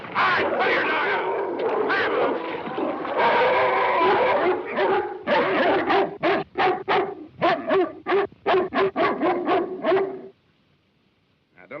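A dog in a 1935 wilderness drama set in the snowy north gives a long run of loud, close vocalizing, then a rapid string of short, sharp barks before falling quiet at the end.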